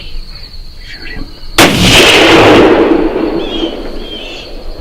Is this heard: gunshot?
yes